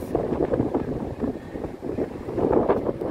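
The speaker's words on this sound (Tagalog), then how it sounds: "Masyadong mahangin" Strong wind buffets the microphone in a steady, rumbling roar with gusts rising and falling throughout, at The Peak in Hong Kong.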